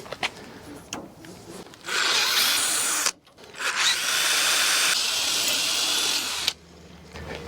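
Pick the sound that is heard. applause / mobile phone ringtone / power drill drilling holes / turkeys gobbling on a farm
power drill drilling holes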